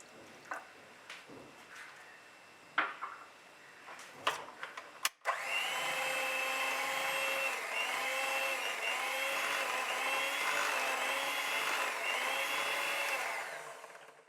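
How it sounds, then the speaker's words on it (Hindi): An electric hand mixer beats brownie batter with walnuts after vanilla essence goes in, starting with a few clicks and taps, then a steady loud whirring motor drone running for about nine seconds before cutting off. "1 टीस्पून वनीला एसेंस, दोबारा से बीट करेंगे"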